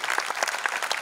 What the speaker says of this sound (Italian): Un applauso più che meritato